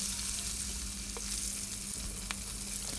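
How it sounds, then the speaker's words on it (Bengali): Glass cup fish frying in hot oil, turned so each side browns: a steady, dense sizzle holds throughout, with a couple of faint clicks and no voices. "মাছের এক সাইডটা যখন লাল লাল হয়ে যাবে তখন উল্টিয়ে অপর সাইডটাও ভালো করে লাল লাল করে ভেজে নিতে হবে"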